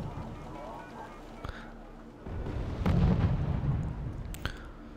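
Artillery fire in the war strategy game Wargame: European Escalation on a summer night, with muffled booms and a sustained low rumble rising midway, a few sharp bursts over a steady background.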